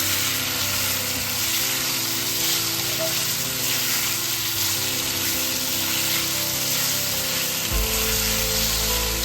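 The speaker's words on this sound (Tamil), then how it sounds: "நல்லா வதங்கினோடனே நம்ம இந்த சிக்கன் ரோஸ்ட் பண்ணி வச்சிருந்தோம்னா போட்டுட்டு கொஞ்சம் டாஸ் பண்ணிடுவோம்" Pieces of roasted chicken are tossed in a pan with sautéed onions, a continuous loud sizzle and frying hiss with a steady crackle, a brief shift near the end as the food is stirred, no talk.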